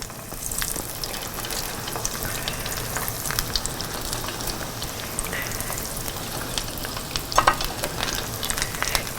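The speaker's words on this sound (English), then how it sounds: "let's start frying these up, see what they're gonna taste like" Steady, dense sizzle of food frying in a pan in a home kitchen, close and loud, with a few sharper pops and crackles and no talking.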